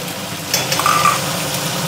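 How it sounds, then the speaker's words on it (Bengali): Tomato paste and turmeric fry in a pan for a fig curry (dumurer torkari), giving a soft, steady sizzle with a brief brighter hiss partway through and no speech. "এবার আমি এটাকে ভালো করে কষিয়ে নেব।"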